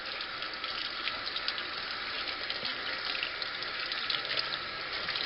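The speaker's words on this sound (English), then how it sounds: "Let me just rinse my finger a little bit." Running tap water streaming steadily while a finger is rinsed in a kitchen, a constant close hiss with no other sounds.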